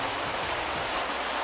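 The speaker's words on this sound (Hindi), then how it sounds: "हम लोग का यहाँ पे 4-5 दिनों से बारिश गिर रहा है" Rain falling during several days of monsoon-like weather, a dense, steady patter of drops heard close and fairly loud, continuous throughout with no talking.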